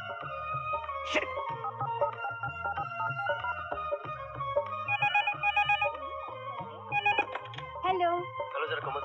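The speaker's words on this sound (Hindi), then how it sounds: "एक मिनट, कोमल तेरे दोस्त का फोन है।" A telephone rings in a Hindi action-comedy film scene, giving repeated electronic trills over busy background music.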